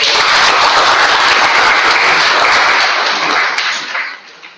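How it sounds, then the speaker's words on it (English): Applause from a Toastmasters meeting audience: steady, loud clapping from a crowd that goes on for several seconds and then fades out. "A big round of applause."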